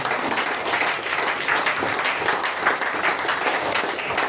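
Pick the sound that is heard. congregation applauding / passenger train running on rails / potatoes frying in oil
congregation applauding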